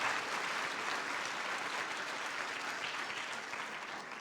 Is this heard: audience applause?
yes